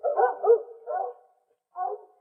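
Dogs bark in a quick run of three yelps close together, then a pause and one more bark, fairly clear with no other sounds around.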